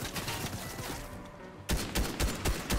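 Gunfire in the video game Fortnite: a steady run of rapid shots, then after a brief lull a louder, punchier burst of distinct reports, close and dominant with no talk.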